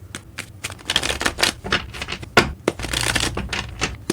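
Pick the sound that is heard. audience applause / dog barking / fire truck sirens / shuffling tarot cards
shuffling tarot cards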